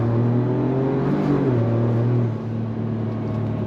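A 2025 Ford Ranger Raptor midsize performance truck engine pulls hard under throttle, a loud steady drone with rising harmonics that drops after about two seconds into a lower sustained rumble, close and continuous with no talk.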